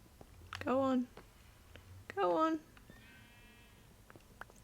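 Sheep in a Minecraft-style video game bleat twice, two loud, close, wavering calls about a second apart, followed by quieter game sounds and a faint tone.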